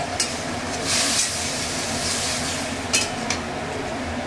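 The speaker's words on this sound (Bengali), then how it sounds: "পেঁয়াজ একটু ভাজাভাজি হয়ে গেছে" Marinated chicken meat sizzles and hisses in a pan with fried onions and chicken masala. The frying noise is steady and close, with a few brief stirring scrapes and louder bursts.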